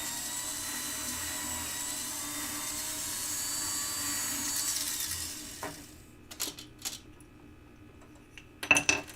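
A motor-driven buffing wheel with polishing compound whirs in a steady, even whine for several seconds, then spins down and stops, followed by a few light metallic clinks and taps.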